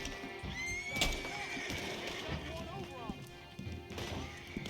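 Horse whinnying in the Red Dead video game, with hoof clip-clops and a thump or crash mixed in, while a person talks over the noise.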